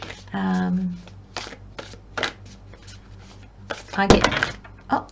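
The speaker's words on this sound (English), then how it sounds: "sometimes as I shuffle, I forget how many cards I need" Tarot cards are shuffled by hand in a series of quick riffling and tapping bursts, with a person talking throughout and a sharper shuffle near the end.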